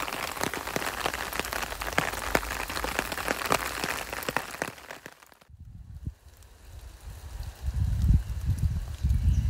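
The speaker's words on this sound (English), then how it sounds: "The rain's definitely slowing down" Rain pattering on an umbrella during a walk in Ox Close Wood, a dense steady crackle of drops that stops abruptly midway, leaving quieter woodland ambience with some low rumbling handling noise near the end.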